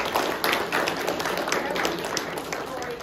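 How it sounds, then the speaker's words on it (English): Audience applause in a lecture hall following a literature talk, a dense steady wash of clapping lasting throughout, fairly close and even in level, with faint voices beneath. "one more round of applause for all"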